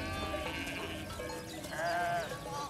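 A flock of sheep bleats continuously while guarded by livestock protection dogs, with several wavering, overlapping cries close by and no talking.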